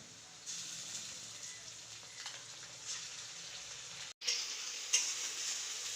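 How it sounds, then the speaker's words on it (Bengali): A paste of onion, ginger, garlic and dried chilli fries in oil with a steady, close sizzle that runs throughout, broken by a brief gap and a few sharper spits and stirring scrapes near the end. "এটা এবার একটু ভাজা করে"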